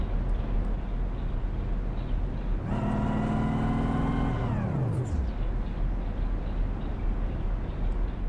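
A stock car engine roars past in a racing video game at Darlington, its pitch rising then dropping away, under constant loud engine noise from other cars.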